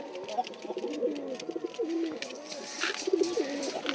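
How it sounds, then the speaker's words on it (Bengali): Three angry male pigeons coo in a pigeon farm, giving repeated throaty rolling calls that overlap one another at moderate volume, with faint chirps and no talk over them. "তিনটা ছেলে কবুতরই ভীষণ রেগে গেছে"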